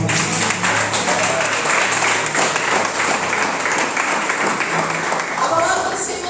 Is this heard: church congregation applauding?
yes